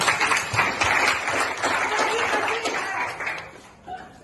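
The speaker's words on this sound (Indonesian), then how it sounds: "Tepuk tangan." Students applaud at the end of a classroom sociology lesson, with a dense burst of clapping that gradually thins out, mixed with a little laughter and chatter.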